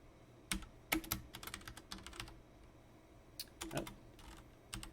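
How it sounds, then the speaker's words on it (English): Quiet, close computer keyboard typing comes in short clustered bursts of rapid key clicks separated by brief pauses. "then I can just start typing"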